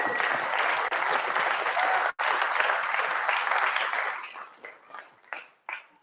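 Awards-show audience applauds the sponsors, a dense sustained wash of clapping that thins out after about four seconds into a few scattered bursts of claps.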